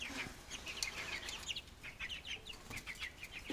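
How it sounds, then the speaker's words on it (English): A flock of young hens and roosters clucks and chirps continuously nearby, overlapping calls in an uneven chatter over low background rumble. "I'm starting to be able to kind of see the difference between our hens and our roosters"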